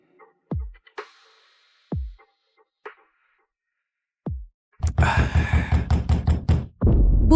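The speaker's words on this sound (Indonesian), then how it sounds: "Aku mengetuk, kau buka 5 detik maksimal." Several sharp knocks on a door arrive as separate, spaced single raps over the first few seconds, followed by a louder burst of rapid, rhythmic noise toward the end.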